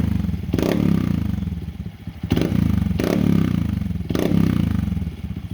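A 2022 Honda Monkey motorcycle with a Yoshimura exhaust revs repeatedly while standing, four deep throttle blips rising over a steady low idle rumble, close and loud.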